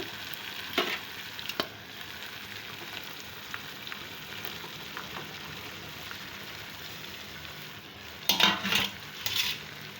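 Broad beans sizzling in a tomato curry, frying steadily with a soft continuous hiss, then a few sharp bursts of spoon scraping and stirring against the pan near the end.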